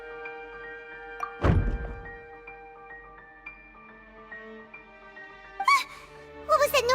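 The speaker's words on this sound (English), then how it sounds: "I seem to have accidentally knocked over a decoration." A decoration gets knocked over in the Genshin Impact video game, giving one heavy, close thud against quiet sustained background music, followed later by a few brief squeaky chirps.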